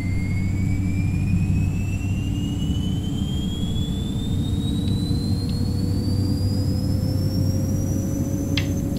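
Simulated Beechcraft 1900D turboprop turbine in X-Plane 10 spooling down toward low idle, a steady loud whine with a rising high-pitched tone over a constant low roar, no talk.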